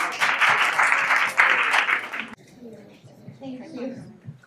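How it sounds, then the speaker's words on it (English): At a community gathering, an audience applauds loudly for about two seconds, then the clapping cuts off abruptly, leaving quieter room sound and a voice speaking. "Please, round of applause for yourselves for all coming out today."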